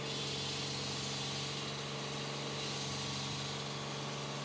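An EDCO self-propelled concrete saw runs with a steady, droning engine hum and vibration, constant and close while the blade is lowered, with no talk.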